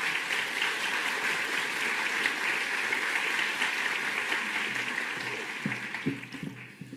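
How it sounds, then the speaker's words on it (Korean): An awards-ceremony audience claps steadily to welcome presenters at a musical awards show, a dense, sustained wash of applause that tapers off toward the end. "박수로 환영해 주세요."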